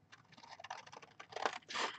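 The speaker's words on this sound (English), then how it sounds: "I'm going to use my big scissors this time" Big scissors snipping through cardstock for a folded card, a close run of quick, crisp irregular cuts that gets louder toward the end, with no voices.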